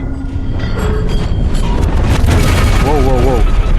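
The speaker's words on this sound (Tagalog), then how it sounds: "Sumabog?" A loud, sustained rumbling blast fills the scene in the video game The Inner Voice, a steady roar of debris-like noise with a few faint tonal whines near the end.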